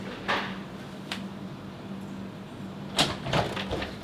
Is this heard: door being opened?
yes